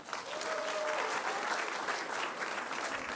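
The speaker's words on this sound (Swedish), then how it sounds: "en applåd får du." An audience at a public talk applauds to welcome a university lecturer to the stage, producing a brief burst of full, continuous clapping.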